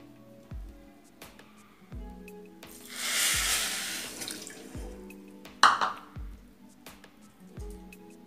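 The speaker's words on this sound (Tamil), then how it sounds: "இப்போ இதே கப்பில் ஒரு கப் தண்ணி ஊற்றிக்கலாம்" A cup of water is poured into sugar in a pan to start syrup for bread gulab jamun, making a brief close splashing rush midway over quiet background thumps, then a short clink.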